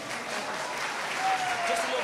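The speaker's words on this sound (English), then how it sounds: "give them another round of applause" Applause from an audience following a dance performance forms a soft, steady wash of clapping, with a faint voice speaking over it partway through.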